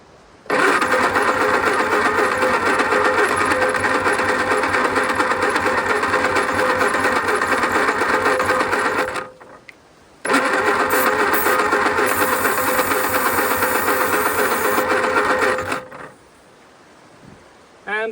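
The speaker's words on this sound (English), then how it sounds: "Now it's backfiring." An old engine, left standing for 50 years, runs rough and loud with a dense rattling chug, cuts out briefly, roars back, then stops; quiet gaps fall at both ends.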